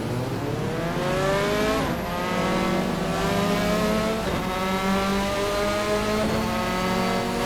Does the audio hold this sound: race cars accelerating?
yes